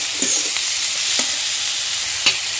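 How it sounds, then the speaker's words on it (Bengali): Spices sizzle and fry steadily in a pan as they are stirred, a constant hissing crackle with a few soft scraping knocks and no talk. "এখন ভালো করে একটু নাড়াচাড়া করে একটু ভেজে নেব"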